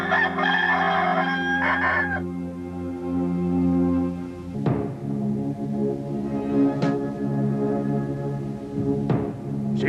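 A rooster crows several times in a biblical drama scene, its calls rising over a sustained orchestral music bed, with a couple of distinct crows spaced a few seconds apart.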